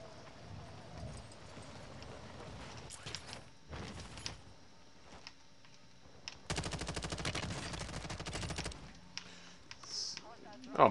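A newly unlocked gun firing in Call of Duty, with scattered shots followed by a dense, rapid automatic burst lasting a couple of seconds, fairly loud over a busy game background.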